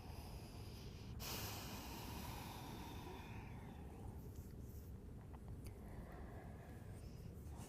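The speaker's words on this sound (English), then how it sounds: "Breathing in and breathing out." During a beginner yoga class, slow breathing in and out drifts over a constant background hiss, with one sharp, audible breath near the start followed by softer exhales.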